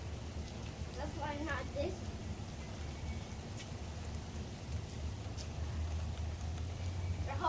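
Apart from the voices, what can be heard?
rain falling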